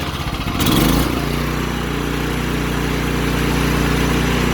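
A Sears Suburban riding mower engine idles with no load, a steady low putter that revs briefly near the start before settling into an even, slightly uneven idle, close and loud.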